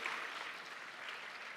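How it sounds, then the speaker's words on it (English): Audience applause at the Arise summit opening in Africa, a steady wash of many hands clapping together, heard fairly faint and distant with no break. "I think that really deserves a great round of applause"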